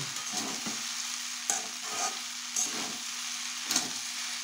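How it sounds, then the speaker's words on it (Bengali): Peanuts are stirred into sabudana pulao in a pan, giving a steady bright sizzle with a few distinct spoon scrapes and clinks spaced through it, close up, with no talking. "এই যে চিনে বাদামটা নিয়েছিলাম, এটা আমি দিয়ে দিচ্ছি, দিয়ে নেড়ে হালকা নেড়ে চেড়ে নামিয়ে নেব"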